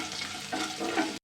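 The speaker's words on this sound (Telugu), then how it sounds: "ఒక సైడ్కి జీలకర్ర మరొక సైడ్కి అయితే ఆవాలు కూడా వేసుకుని వాటిని కూడా నెయ్యిలో కాసేపు అయితే వేగనిచ్చానండి." Cumin and mustard seeds fry in hot ghee, producing a short burst of close, crackling sizzle with a stir, then it cuts off abruptly.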